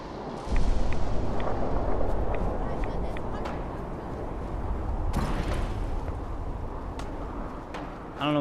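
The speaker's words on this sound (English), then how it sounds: "I lost it because of all the gunshots going off" Gunfire and explosions in the video game Fallout 4 rumble in a dense, continuous barrage, with sharp cracks scattered throughout and a heavy burst near the middle, loud and close.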